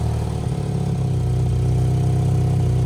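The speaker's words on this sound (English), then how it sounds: "He's idling really low." Budget turbocharged Mazda Miata with an exhaust leak idling low and rough, a steady close loud engine drone with a throbbing low pulse throughout, no talking.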